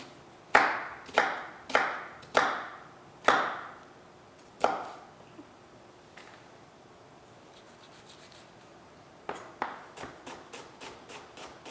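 Kitchen knife chopping through vegetables on a cutting board, about six sharp, evenly spaced cuts close by, a pause, then a quicker, lighter burst of chops. No talking.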